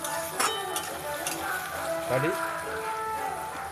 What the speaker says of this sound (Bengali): এবার এগুলোকে যতক্ষণ নাড়বো যতক্ষণ না এটা ভালোভাবে লাল লাল হয়